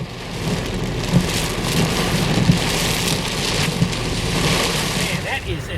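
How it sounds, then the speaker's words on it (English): Heavy rain pounds steadily on a surface during a thunderstorm over Patoka Lake, loud and dense, with low rumbles beneath and a voice faintly underneath. "that is an incredible storm out there"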